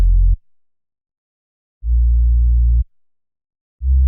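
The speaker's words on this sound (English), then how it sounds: "the synth bass, playing the root notes of the chords" Deep, smooth synth bass notes sound alone, three sustained low tones separated by silence, each starting and stopping cleanly.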